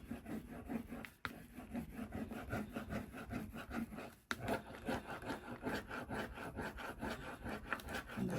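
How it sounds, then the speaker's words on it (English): A palette knife scrapes back through layered paint on a Gelli print, giving a steady, close rasping rub with short repeated strokes and a couple of sharper scuffs, fairly quiet with no talking. "I'm going to go back in with my palette knife and just scrape back in"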